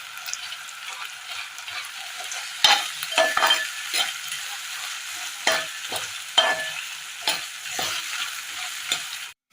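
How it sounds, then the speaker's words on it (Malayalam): Tomato mixture is stirred into a frying prawn masala in a pan, producing a soft background sizzle punctuated by repeated scraping strokes of a spoon against the pan, close and clear with no voices. "ഇനി ഇതിലേക്ക് വഴറ്റി മാറ്റി വെച്ചിരിക്കുന്ന തക്കാളിയുടെ കൂട്ട് ഇട്ട് കൊടുക്കാം. നന്നായി ഒന്ന് ഇളക്കി കൊടുത്ത് മിക്സ് ചെയ്തെടുത്തിട്ടുണ്ട്."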